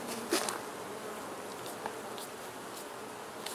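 Honey bees hum steadily around a hive during a late-season inspection, a close, even drone with a few louder buzzes as single bees pass near, with no talking.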